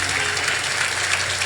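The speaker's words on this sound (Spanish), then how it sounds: "Yo creo que puede ser más fuerte el aplauso para el Señor" A church congregation applauds during a Pentecost celebration service, with dense, steady clapping from many hands throughout, loud and continuous with no gaps.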